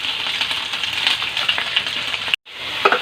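Garlic, onion and tomato sauté in a pan with a steady, bright sizzle and crackle, broken by a brief moment of silence before the frying picks up again.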